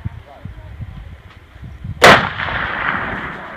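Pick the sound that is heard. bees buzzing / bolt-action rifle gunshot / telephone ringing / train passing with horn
bolt-action rifle gunshot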